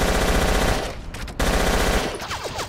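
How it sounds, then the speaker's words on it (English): Rapid machine gun fire in the war video game Battlefield Yugoslavia, loud dense bursts that break off briefly and resume, followed by a scatter of lighter shots. "Fire some bullets to keep the Bosniaks at bay."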